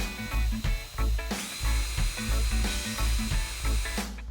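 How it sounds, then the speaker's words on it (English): A power drill runs in repeated loud bursts, its motor whining and grinding as the bit bites into hard acrylic sheet, with brief pauses between. "Then drill out each mark with the same drill bit."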